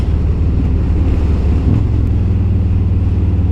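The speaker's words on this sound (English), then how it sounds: "he's a good truckie coming down nice and safely" A truck descends a steep, rugged road between Taihape and Napier, its engine and drivetrain giving a loud, steady low rumble close by, with a slight shift in tone partway through and wind noise over the microphone.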